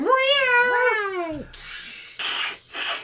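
Cat fight sound effect: a long rising and falling meow-caterwaul, then two harsh hissing bursts, loud and close, with no talk.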